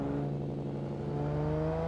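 Car engine in Assetto Corsa revving steadily during a clutch kick on a wheel, a loud sustained drone with rising harmonic tones and no voices.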